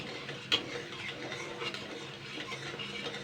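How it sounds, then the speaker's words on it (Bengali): Semolina being stirred in a pan with a metal spatula, a soft continuous scraping and rustling close by with one sharp clink of the spatula against the pan early on. "এইভাবে কিন্তু খুন্তি দিয়ে কিন্তু নাড়তে হবে, কিন্তু এক জায়গায় ফেলে রাখলে কিন্তু হবে না"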